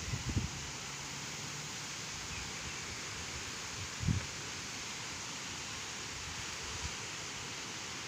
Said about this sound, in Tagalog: ang lakas ng hangin talaga